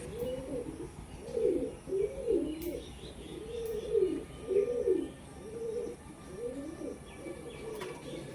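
A pair of red Madras pigeons coo in a run of low, rounded, repeated phrases, close and fairly loud, with faint chirps from other birds in the background.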